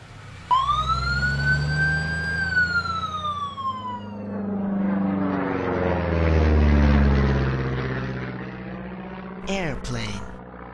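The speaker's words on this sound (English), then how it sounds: "Ambulance." A loud ambulance siren wails close by, sweeping up and down in pitch over a low vehicle rumble, ending with a sharp clatter.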